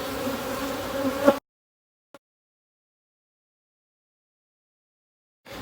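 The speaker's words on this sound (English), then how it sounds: "You can see they're still buzzing around, doing their thing." Honey bees swarm around an opened hive with frozen capped brood, a dense close buzz for just over a second that cuts off, followed by near silence with one brief faint tick.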